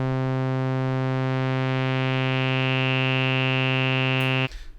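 A resonant low-pass filter on a DX-7 style FM synthesizer holds a bright, steady buzzing tone with a sharp resonant peak, sustained for about four seconds before cutting off abruptly.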